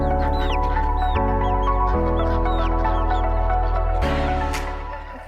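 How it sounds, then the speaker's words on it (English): Chickens at a pasture farm raising colored-egg breeds cluck and chirp close by, with repeated short squawks over a loud steady low drone that fades near the end. "Hey, chickens."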